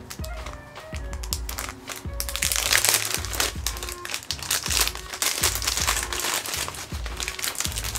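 Pages of a paper memo pad with printed character designs are flipped and handled close up, giving crisp crinkling and papery rustles with soft taps through a steady stretch with no talking.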